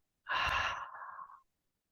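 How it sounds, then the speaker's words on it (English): A single deep breath during a guided breathing exercise: a big, full inhale rising into a long audible exhale that fades out, heard close and alone. "breathing in, big inhale, and audible exhale out."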